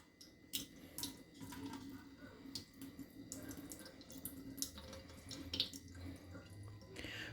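Quiet trickle of liquid poured off a jar of fermenting garden seeds, a soft, uneven splashing and dribbling that runs steadily for several seconds with faint drips.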